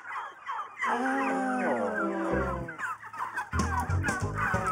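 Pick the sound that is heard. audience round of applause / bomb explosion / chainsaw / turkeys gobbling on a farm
turkeys gobbling on a farm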